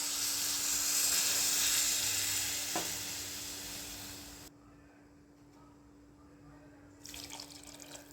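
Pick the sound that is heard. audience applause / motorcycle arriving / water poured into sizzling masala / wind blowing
water poured into sizzling masala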